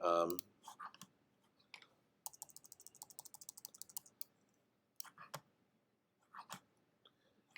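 Computer mouse buttons clicked during photo-editing work in Liquify, a scattered run of quick, crisp clicks at close range, partly in bursts, with a few louder taps and a brief vocal sound at the start.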